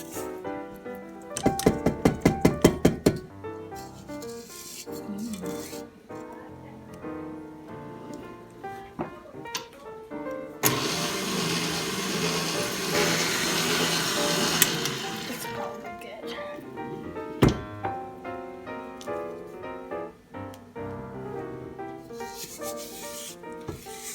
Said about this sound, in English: I'm just gonna give it a mix and scrape down the sides